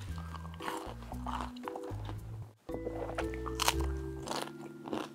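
Loud close crunching as crispy nurungji (scorched rice) chicken is bitten and chewed, a run of crackly bites and chews, a short pause, then another burst of crunching.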